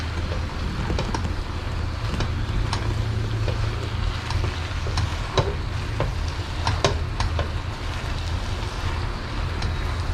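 Pork and rice vermicelli frying in a hot pan while being stirred: a steady, close sizzle with scattered scraping clicks of the utensil throughout, no talking.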